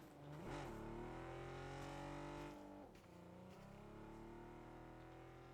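A car in the PUBG video game drives past with a revving engine, a close, loud motor whine that rises and falls in pitch as it passes, dips briefly, then carries on steadily.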